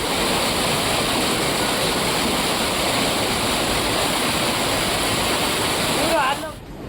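Floodwater rushes fast after a pond breached in heavy rain in the Kumbhalgarh area of Rajsamand, a loud, continuous, close roar of torrential flow that barely changes and drops slightly at the very end.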